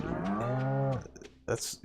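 A cow in the Stardew Valley farming game gives one long, loud, close moo lasting about a second, followed by quieter scattered sounds and a brief short burst.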